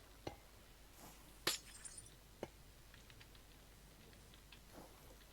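A glass block breaking in Minecraft gives a few sharp, isolated crashes, one clearly louder than the rest, spaced over several seconds against a faint, quiet background.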